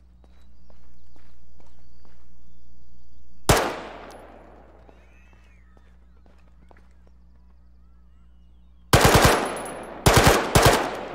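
Gunfire in a military shooter game during a town-clearing assault, a single loud shot with a long decaying echo, then quiet, then several sharp close bursts of automatic fire near the end.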